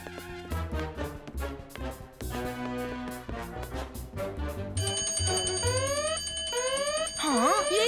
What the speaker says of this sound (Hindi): शायद फायर अलार्म चेक कर रहे होंगे